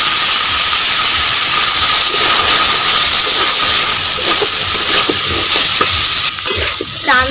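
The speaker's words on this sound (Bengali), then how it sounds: "এর মধ্যে আগে থেকে সেদ্ধ করে রাখা চানা মটরগুলো দিয়ে একই সাথে ভালো করে কষিয়ে নেব" Boiled chickpeas and peas stir-fry in a spiced masala with a loud, steady sizzle and hiss. Spatula scrapes and stirring clatter run through it, turning more broken and scraping near the end.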